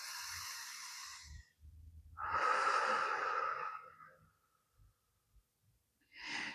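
A slow audible inhale is followed by a long, deep exhale that fades out, then another breath starts; close and quiet, with no talking.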